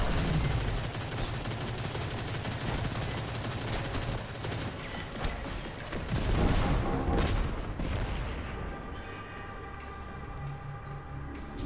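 Sustained dense gunfire in Destiny 2 in a lost sector on Europa, a continuous rattling barrage with heavier bursts midway that thins toward the end, with no talk.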